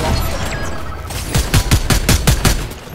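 A rapid burst of roughly eight sharp gunshots rings out in a Fortnite match, each crack closely spaced and loud, set against faint background game ambience before and after the volley.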